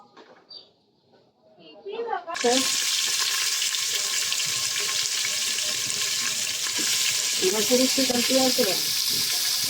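Spiced meat with dried chillies hits the pan for homemade kebab, and a loud, steady frying hiss erupts after a quiet opening of faint talk and rustling, then continues under stirring and a brief voice.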